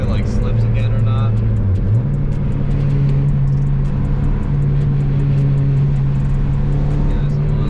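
An Acura TSX engine is revved to test a slipping clutch, a loud close droning hum that steps up in pitch and holds steady, with faint ticking over the top.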